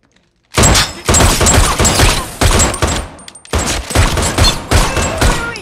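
Rapid volleys of gunshots are fired at a person testing a bulletproof suit, loud, close bursts of rattling fire that break off briefly before resuming.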